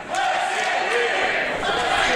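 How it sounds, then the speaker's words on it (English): Wrestling crowd at FSW Snake Pit in Las Vegas, cheering and shouting in a steady, loud roar of many voices throughout a pro wrestling match. "the crowd definitely behind Sinn Bodhi early here"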